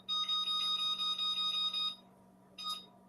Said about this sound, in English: And now I'll set my timer.